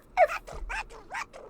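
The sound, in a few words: dog barking in video game The Sims 4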